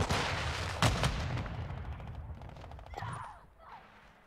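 A flash grenade is thrown in Call of Duty: Modern Warfare II, with a sharp near bang followed by a dense spread of game gunfire and rumbling noise that fades over a few seconds.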